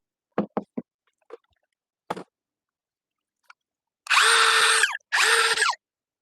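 A few sharp clicks and taps, then two loud, steady bursts of a Hart impact driver whirring freely for about a second each, close by, its anvil not engaging.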